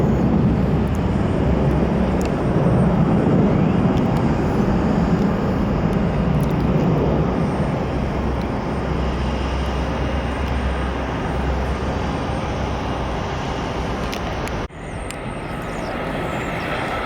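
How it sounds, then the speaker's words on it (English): A Southwest airliner with split scimitar winglets flies inbound to land at CMH, a loud sustained engine roar and rumble that holds for the whole stretch with a slight drop near the end. "Southwest Flight 873 inbound from Tampa. And this one has split symmetron winglets."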